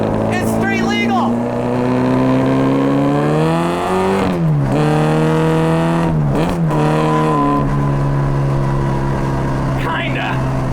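Loud engine drone of a Britax classic race Mini driven on a public street, revving up and dropping through gear changes from inside the car, with people talking over the noise.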